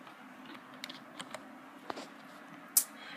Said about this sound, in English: I'm going to use my keyboard command, and I'm going to hit the Windows key with the plus